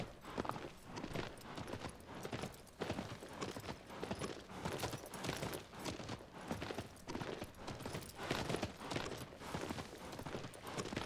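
A horse's hooves clip-clop steadily in the Shadow of the Colossus remake, a quiet, rhythmic trot of repeated hoof strikes with no other sound over it.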